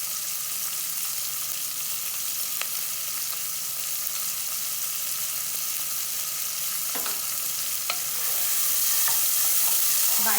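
Hing (asafoetida) frying in hot oil in a pan for aloo gobi, with a steady close sizzle and occasional scraping clicks of a spoon stirring, the frying growing a little louder toward the end.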